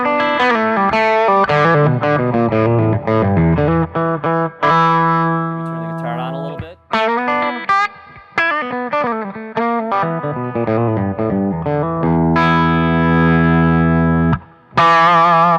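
Electric guitar played through a Carvin V3M amplifier on its clean channel in soak position, a loud bluesy run of sustained notes, bends and chords with short pauses, alone without talk.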